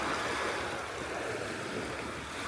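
Rough, steady roar of sea waves at high tide during Typhoon Uwan in Cagayan de Oro, with wind noise in a short continuous wash and no voices.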